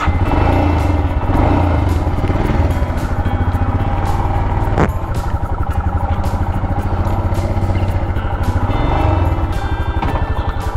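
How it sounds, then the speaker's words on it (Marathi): A Royal Enfield Himalayan motorcycle runs on a ride from Mumbai toward Lonavala, its engine throbbing steadily and loudly up close with a rapid regular thump, a brief sharp click midway. "चला बाईक स्टार्ट करतो आणि निघूया मग आता प्रवासाला।"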